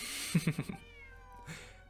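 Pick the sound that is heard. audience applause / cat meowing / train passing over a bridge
cat meowing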